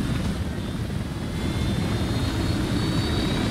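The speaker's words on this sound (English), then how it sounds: "Chopper." A helicopter in a military video game roars with a steady, loud rotor-and-engine drone that holds unbroken throughout, close and without speech.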